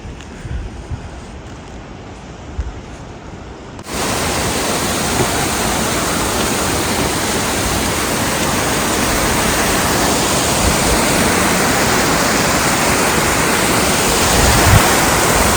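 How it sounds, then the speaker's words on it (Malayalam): After a few quieter seconds, a waterfall's loud, steady roar abruptly fills everything and rushes on unbroken to the end, on the trail to Annapurna Base Camp. "വാട്ടർഫോൾസ് ആണ് ഇത്"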